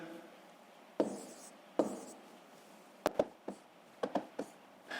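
Pen or pencil strokes on paper while working out long division by hand, a series of short, distinct scratches and taps at irregular intervals, fairly close and quiet, with no talking.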